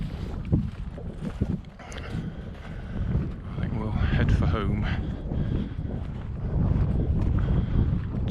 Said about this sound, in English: Too windy for the little aeroplanes,